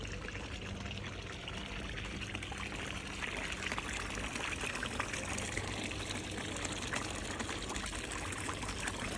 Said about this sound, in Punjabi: ਇਸ ਤਰ੍ਹਾਂ ਗੰਦਾ ਪਾਣੀ ਅਤੇ ਸਾਰਾ ਖਾਲ ਜਿਹੜਾ ਹੈਗਾ ਇਹ ਭਰਿਆ ਹੋਇਆ